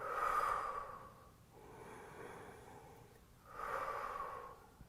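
Heavy breathing during a thigh and glute workout, two strong audible exhales with a softer breath between them, close and rhythmic with no talk.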